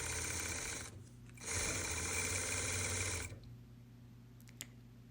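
A sewing machine stitches an overlapped grosgrain belt loop for thick fabric, heard as two steady whirring runs close by, the second longer, with a brief pause between and no talking.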